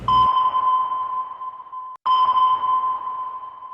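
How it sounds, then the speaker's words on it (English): A submarine sonar sends out two clean, high, ringing pings, each held and slowly fading with a long echoing tail. A short gap separates them, and they sound loud and isolated. "Submarine sonar pinging,"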